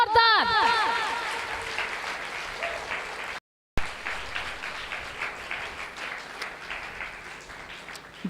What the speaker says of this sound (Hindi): प्रभु के लिए बजाएंगे जोरदार ताली, जोरदार जोरदार।